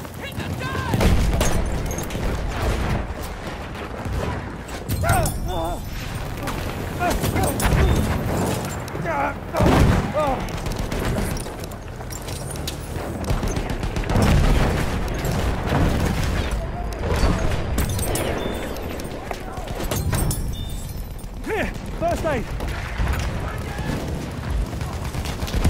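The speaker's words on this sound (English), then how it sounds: "Throwing a grenade, watch it." A grenade bursts in a war video game among constant gunfire, rumbling booms and battlefield noise. A voice talks over the dense, loud mix throughout.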